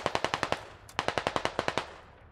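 Automatic gunfire in the Squad military shooter game: two rapid bursts of about six shots each, sharp and fairly close, with a brief pause between them and no voices.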